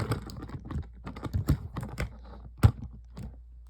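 Plastic parts of a Transformers Legacy Scourge figure are folded into place, giving a close run of small dry clicks and taps with one sharper snap near the end.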